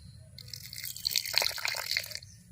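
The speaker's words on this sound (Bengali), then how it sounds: "অল্প একটু জল দিয়ে দেব" A small splash of water is poured into a semolina and palm batter for steamed pitha, a brief close trickle and dribble lasting under two seconds in a quiet kitchen, with no voices.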